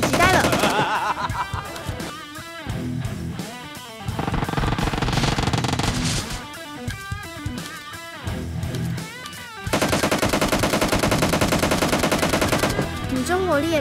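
AK rifle fire in the mobile shooter Game for Peace, repeated loud bursts of rapid automatic gunfire with short gaps between them, with game sound effects beneath.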